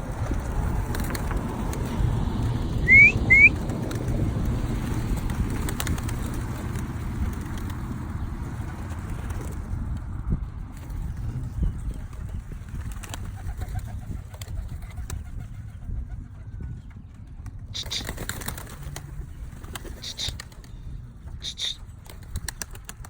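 Birmingham Roller pigeons coo softly outdoors, with a few brief wing flaps now and then over steady open-air background noise and no talking.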